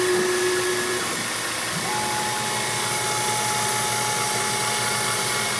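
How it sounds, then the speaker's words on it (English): CNC machine plunging into a workpiece and spiraling out a hole for low-profile edge jaws, a loud continuous whirring cut with a shifting spindle whine, heard up close without voices. "the CNC doesn't know how big the hole is, so it's just going to plunge in and then start spiraling out."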